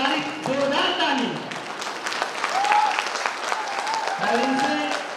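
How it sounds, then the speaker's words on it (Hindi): Seminar audience in a meeting hall giving a loud, sustained round of applause, dense clapping throughout with a speaker's voice over it. "एक बार जोरदार ताली।"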